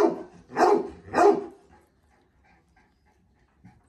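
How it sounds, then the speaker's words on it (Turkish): A dog barks twice in quick succession, loud and close, within a standoff against a large pack of dogs; the barks are followed by near silence with faint background noise. "30 tane köpeğe kafa tutuyor"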